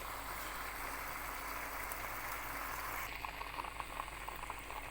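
Chicken and onions simmering in a pot for Algiers-style kebab, a steady dense bubbling hiss that holds level throughout, with faint bubble pops more distinct in the last seconds.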